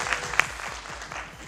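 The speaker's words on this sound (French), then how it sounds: "je vous demanderai juste d'applaudir très fort" A conference audience breaks into applause, a short burst of dense clapping heard from within the room at moderate level.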